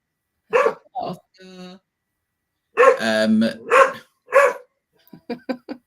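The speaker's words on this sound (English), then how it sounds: "Sorry, there's a dog again." A dog barks in several short, sharp bursts with pauses between them, close to the microphone, and a few quick yips come at the end.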